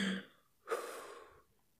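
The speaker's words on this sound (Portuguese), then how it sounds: "CJ respirando, vocês viram" Heavy breathing from the character CJ in GTA San Andreas on mobile, a short exhale followed by a longer, airy breath that fades out, heard close against a quiet game background.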